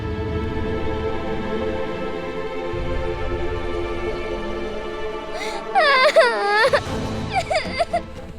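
A child's crying and whimpering rises near the end of a dramatic indoor scene, high wavering sobs in short bursts following a stretch of other sound.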